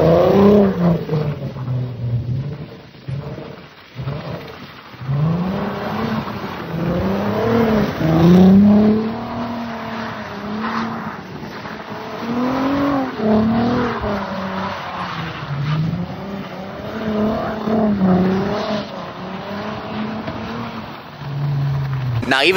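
A Volkswagen 3.2L 24V VR6 engine revs repeatedly while the car drifts in snow, rising and falling pulls with brief tire slip, recorded close and loud, with a voice now and then over it.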